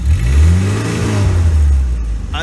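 A straight-piped engine on an old Ford Mustang II with a replaced muffler gives one close, throaty rev that swells quickly, then settles back toward idle.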